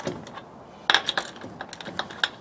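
Lug nuts being snugged onto a wheel of a 1991 Ford E350 van, a series of light metallic clicks and taps, close and irregular.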